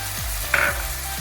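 Onion paste hits already translucent onions frying in a pan for chicken korma, giving a close, steady sizzle with a brief sharper burst as it goes in. No one talks.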